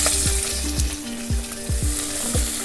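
Chopped onions frying in a small amount of oil for beresta, a steady close sizzle broken by regular scraping stirs about every half second, with no voices.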